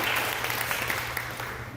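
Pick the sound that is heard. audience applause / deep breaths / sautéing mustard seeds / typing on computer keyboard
audience applause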